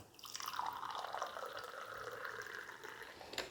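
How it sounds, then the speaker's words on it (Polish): Water trickles and pours steadily from a hand-pumped dispenser into a container, a continuous close splashing flow lasting throughout with no talk. "I tutaj się nalewa, teraz jest tylko woda"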